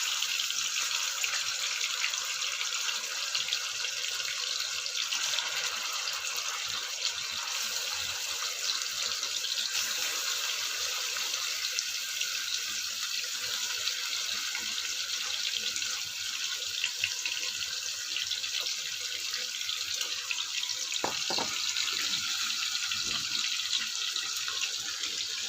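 Marinated chicken dropped into hot oil in a pan on the stove, giving off a steady, fairly faint frying hiss that runs unbroken throughout.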